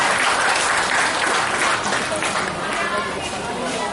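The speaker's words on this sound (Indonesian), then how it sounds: "Tepuk tangan untuk Bapak Ibu teladan." Audience of parents applauding at a school event for first-grade Quran memorization students, loud dense clapping sustained throughout with crowd chatter mixed in.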